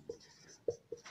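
Chalk or marker writing on a board during an agricultural statistics lesson, a few short scratchy taps and strokes close by, with no talk over them.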